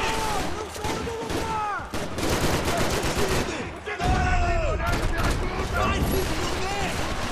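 Dual-wielded pistols in Max Payne 3 fire in rapid, overlapping bursts, loud and close, with sharp shots and mechanical clatter running continuously under excited talk.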